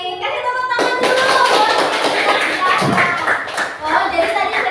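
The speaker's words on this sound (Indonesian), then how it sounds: "Kasih tepuk tangan dulu." Children in a classroom clap their hands together, a dense burst of claps that begins abruptly and carries on loudly, with young voices chattering over it during an Indonesian school lesson on good character.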